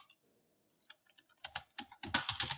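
Quick bursts of keystrokes on a computer keyboard while entering a Bootstrap shadow class for an HTML, CSS and JavaScript admin dashboard, starting as sparse light taps and building into dense, louder typing near the microphone.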